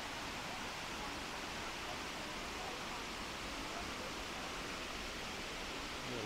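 Waterfall at Cachoeira Paraíso do Cerrado in Damianópolis, Goiás, a constant dense broadband roar of falling water, even and unbroken, fairly faint.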